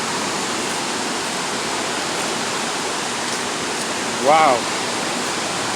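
A waterfall in Valencia roars as a constant, broadband rush of falling water, close and loud throughout, while a voice briefly exclaims near the end.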